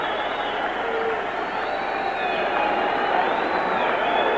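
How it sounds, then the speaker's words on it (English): A boxing arena crowd in Muhammad Ali's era makes a dense, continuous roar of many voices at a distance, steady and loud for several seconds. "Now you begin to hear the crowd."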